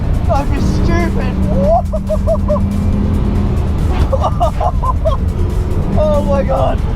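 Bugatti Chiron supercar driven on the Nürburgring circuit, its engine a steady low roar that runs throughout, close and loud, beneath excited shouting from people inside the car.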